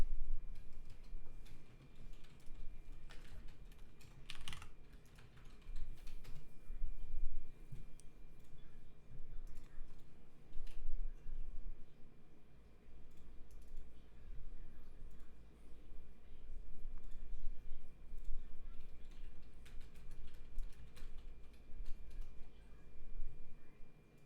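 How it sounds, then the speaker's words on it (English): Quiet, irregular clicks and ticks of typing on a computer keyboard run through the whole stretch over a faint background hum, with no talking. "Typey type type."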